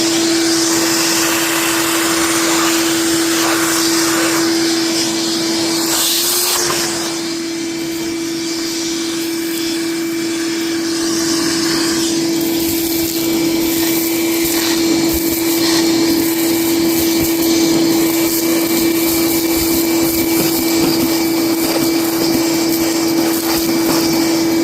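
A vacuum cleaner sucks up debris from a lawn mower, a loud, steady whine and rush of air that runs close and unbroken throughout, with a brief dip partway through.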